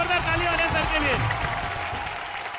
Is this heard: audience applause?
yes